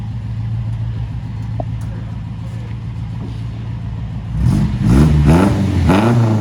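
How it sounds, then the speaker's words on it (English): A Ford Anglia with a 1600 crossflow Pinto engine swap and a new glass pack exhaust idles with a low, even rumble, then revs up in a few throaty, rising pulls close by. "Give her a rev."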